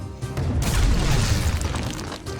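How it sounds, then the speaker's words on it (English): In Skylanders: Spyro's Adventure, a cannon fires with a heavy, loud boom that rolls into a sustained rumbling blast lasting a couple of seconds, with no voices. "Use the action button to fire the cannon."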